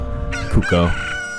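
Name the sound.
Pocket Cuckoo chicken crowing in Ocarina of Time video game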